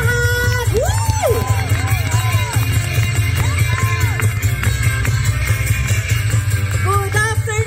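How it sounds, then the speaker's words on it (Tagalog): A lively crowd at a Filipino community rock festival in Yorkshire cheers, whoops and shouts, with children's voices rising above a heavy low rumble of music or amplified sound that persists throughout. "Let's give a round of applause."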